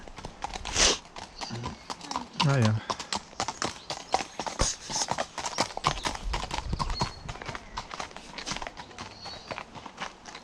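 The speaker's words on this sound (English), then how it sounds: "And here comes the horse." A horse's hooves clip-clop along a path in the Braid Hills of Edinburgh, a steady stream of sharp, close hoofbeats throughout, with a brief whinny early on and a few words spoken over them.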